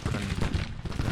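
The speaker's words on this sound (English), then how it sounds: "at least the cannons are firing" Civil War artillery cannons firing in Grand Tactician: The Civil War: a dense, rolling rumble of booms and cracks that overlap into continuous battle noise, loud and steady throughout.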